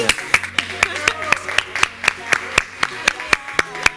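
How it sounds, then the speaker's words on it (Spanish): A TV studio audience on the show Bien por casa claps in a steady, regular rhythm, crisp claps about four per second, heard close and under voices with a musical backing. "un aplauso para ti"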